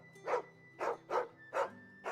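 A dog barks four times in a steady, evenly spaced rhythm in Final Fantasy XVI, each bark close and distinct over a quiet, low background hum.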